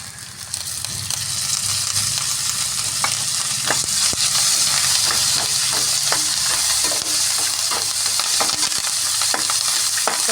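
Curry leaves frying in a pan with turmeric, a loud, dense sizzle that holds steady from start to finish, broken by occasional sharp crackles and pops.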